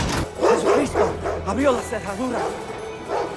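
Puppies yipping, barking and whimpering in quick, high-pitched bursts, closely mixed with people talking over them.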